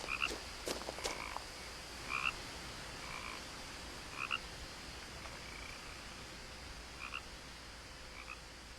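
Frogs croak in the video game What Remains of Edith Finch, a steady scattering of short repeated calls over soft outdoor ambience, with a few louder bursts near the start and no talking.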